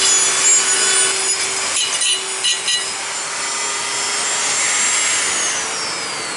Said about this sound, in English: I think that's plenty with the little sanding roll